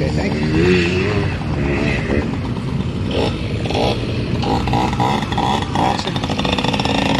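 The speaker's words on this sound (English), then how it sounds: "Here's an old K bike" An old BMW K-series motorcycle engine runs near and loud with a steady, slightly uneven mechanical drone, amid crowd noise and a brief spoken remark.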